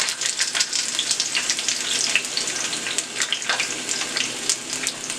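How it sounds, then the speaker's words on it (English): Onions sautéing in olive oil in a home kitchen for an Italian beef sandwich, giving a steady close sizzle and crackle with small pops and no talking. "We're just gonna saute them up till they get all the way done."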